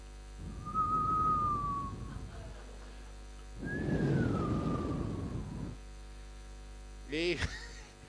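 A voice imitates wind whistling, two long breathy whoosh sounds with a thin gliding whistle on top, separated by a pause, over a steady hum.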